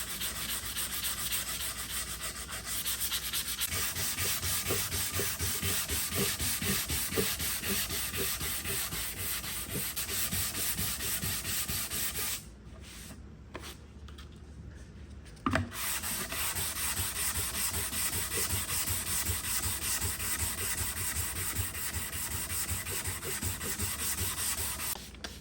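Steady, continuous rubbing of 220 grit sandpaper over a burlwood dresser, loud and close, with a brief lull midway before the scratchy back-and-forth sanding resumes.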